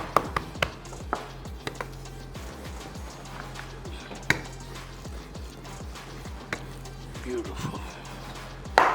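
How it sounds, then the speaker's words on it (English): A knife cutting kachori dough into strips on a board: steady, soft, rhythmic taps under continuous background hum, with a few sharper knocks. "I'm going to be just cutting these into strips"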